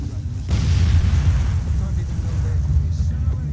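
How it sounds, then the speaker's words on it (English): A grenade blows up in the video game Far Cry 2 with a sudden deep boom, followed by a long low rumbling tail that fills the rest of the moment, loud and close, with a voice talking over it. "time to grenade it and make a run for it"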